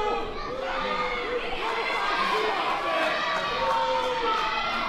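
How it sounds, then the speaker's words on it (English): Wrestling event crowd cheering and shouting steadily in an arena, a dense wall of many voices with excited yells rising above it, loud and close throughout. "And this crowd is just amazing."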